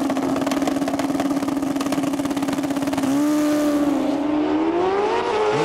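Super street bikes scream down a drag strip at full throttle, their engines holding a loud, steady high-revving drone, then a rising, shifting pitch as one bike pulls away.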